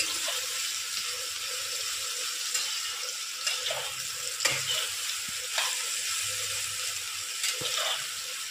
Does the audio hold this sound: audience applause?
no